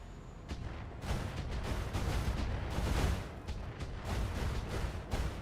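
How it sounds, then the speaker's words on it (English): Mortar carrier firing in the video game BattleTech, dense rumbling bursts of low booms rolling one after another, fairly faint and continuous with no talk. "Now, here's the mortar carrier."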